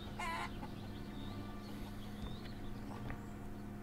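Chicken in the game GiANT gives one quick, bright cluck near the start, followed by faint chirps over a constant background hum.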